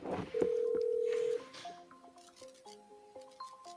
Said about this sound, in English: We can hear her phone.